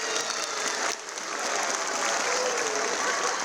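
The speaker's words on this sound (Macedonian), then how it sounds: "благодариме за аплаузот и уште еден силен аплауз" Audience applause fills a hall at the Potočinja children's festival at the Macedonian Opera and Ballet, steady clapping with a brief dip near the start before building back to a full, even ovation.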